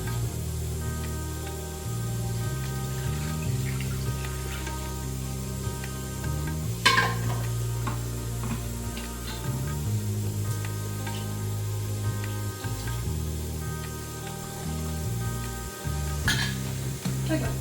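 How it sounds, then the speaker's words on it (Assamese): Stirring haleem of meat and lentils in a pot with water: steady scraping and stirring through the whole stretch, with a few sharp utensil knocks against the pot, over a low background hum. "তাৰপিছত আমি আকৌ এইটো ঘুটনিতে ঘুটিম এতিয়া দিব লাগিব পানী"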